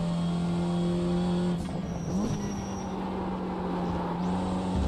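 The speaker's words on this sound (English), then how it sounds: "I don't understand why you can hear the turbo so loud though." A BMW race car in the iRacing sim holds a steady, loud engine drone with a brief dip like a gear change, while a high turbo whistle rises over it for a second or so.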